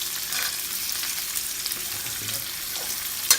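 Chopped onion frying with cardamom in hot oil, a soft, even sizzle heard up close with light crackles and a brief knock near the end, no talking.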